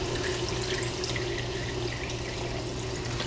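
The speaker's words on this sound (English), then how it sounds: "right now I'm going to add a generous amount of water to cover the oxtail" Water runs steadily from a tap into a cooking pot holding oxtail, a constant splashing rush that stays even throughout with no talking.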